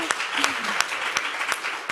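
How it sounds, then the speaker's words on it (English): A small audience at a music policy panel claps briefly, with scattered distinct claps standing out over a thin patter and some talk mixed in. "We might actually take a round of applause."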